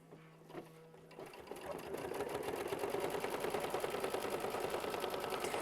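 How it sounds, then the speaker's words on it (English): A sewing machine stitching a quilt block: after a short pause with a faint tone, the motor spins up into a fast, even mechanical whir and needle chatter that runs close and steady to the end. "This is machine stitch step 11 that we're currently on."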